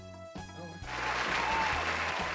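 Studio audience applause rising from a few claps into a steady wash of clapping that holds loud and close to the end, with a faint voice near the start.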